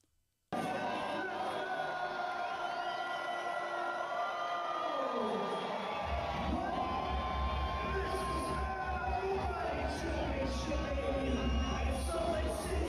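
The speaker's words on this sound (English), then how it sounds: "This was the crowd at BKFC 56." A packed arena crowd at the BKFC 56 bare-knuckle fight event in Salt Lake City roars and cheers loudly after a brief silent moment, a continuous wall of shouting and whooping with a low rumble underneath.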